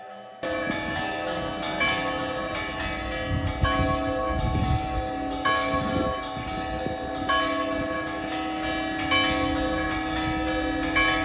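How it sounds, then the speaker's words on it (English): Church bells in Italy ring continuously for about eleven seconds, a rich, layered peal of overlapping strikes that sounds fairly close. "Beautiful bells."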